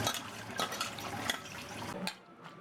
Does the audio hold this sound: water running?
yes